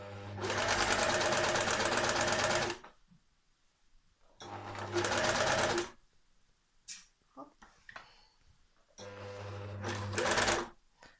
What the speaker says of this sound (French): je suis en train de coudre le dessous de la manche